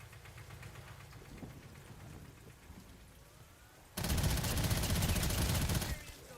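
In a zombie video game, a shotgun fires: after a quieter stretch of low background rumble, a loud, dense burst of rapid blasts starts abruptly and runs for about two seconds before cutting off.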